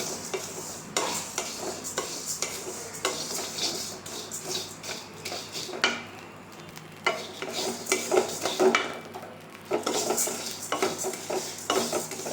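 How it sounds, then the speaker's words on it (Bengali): Flattened rice (chira) is stirred as it dry-fries in a pan, giving a continuous scraping and rustling with repeated clinks of a utensil against the metal, close and steady without talk. "এখন নাড়তে হবে, নাড়া বন্ধ করা যাবে না।"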